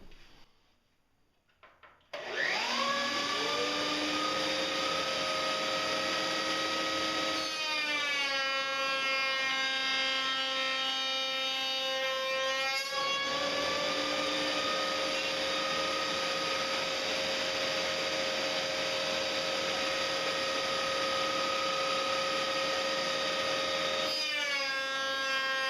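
A Festool CMS router table cuts wood stock for a Shaker-style cabinet door while a dust collector runs. After a brief quiet moment the router spins up into a loud, steady, close whine, and its pitch shifts slightly as each pass bites into the wood.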